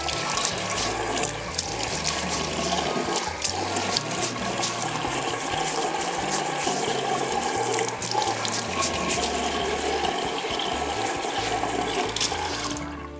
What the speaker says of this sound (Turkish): yüzümü yıkayarak tıraşa başlayabilirim. Yaz mevsiminde olduğumuz için ben bu sefer soğuk suyla yapıyorum bu işi.